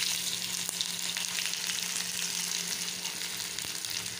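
Chopped onion with dried chilli frying in hot oil, giving a continuous dense sizzle that holds steady throughout, with a couple of faint clicks.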